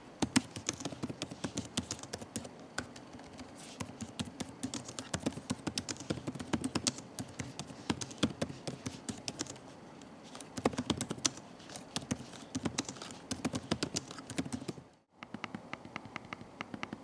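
Rapid, uneven keystrokes clatter on an ASUS Vivobook 14 M1407KA laptop keyboard, a dense run of close clicks lasting over a quarter minute with a brief pause near the end.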